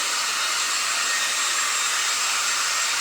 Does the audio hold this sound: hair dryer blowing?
yes